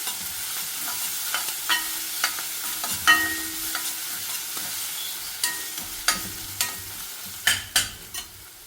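Garlic fries in very hot oil while being stirred, a steady sizzle broken by repeated scraping and clinking of a spoon against the pan, close up with no talking.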